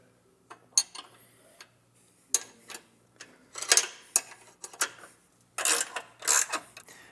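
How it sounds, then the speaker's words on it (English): A ratcheting wrench clicks in short, irregular bursts while tightening trailer hitch bolts on a 2025 Jeep Wrangler, the sharp ticks close and crisp with brief quiet gaps between strokes. "I'm using a ratcheting one on the bolt side so that way I can easily just tighten it all down"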